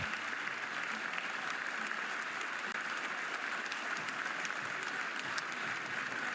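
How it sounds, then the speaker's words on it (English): Oklahoma fans at a college softball game at Love's Field applauding an injured player, steady, fairly distant stadium clapping sustained throughout with no voices. "gets a round of applause from the Oklahoma fans here at Love's Field"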